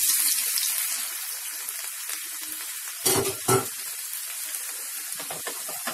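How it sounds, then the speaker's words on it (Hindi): Garlic with asafoetida and red chilli fries in hot mustard oil in a pan for dhaba-style palak saag, a steady close sizzle with two brief stirring bursts midway. "इसको अच्छी तरह से ब्राउन होने तक लहसुन को हम अच्छी तरह से फ्राई कर देंगे"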